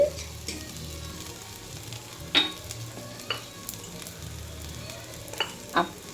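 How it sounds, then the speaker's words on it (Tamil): Sago khichdi sizzles quietly in a pan on the stove while a spoon stirs it, with a low steady fry broken by several sharp scrapes and clinks of utensil against metal. "இதை நல்லா கிண்டணும் அது அப்படியே அடுப்பில் இருக்கணும்"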